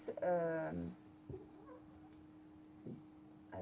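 A small cat gives one clear, drawn-out meow up close in a quiet indoor room, followed by soft faint sounds and a brief start of another call at the end.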